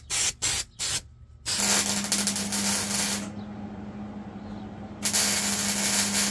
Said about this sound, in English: I should probably spray weld through primer on there first.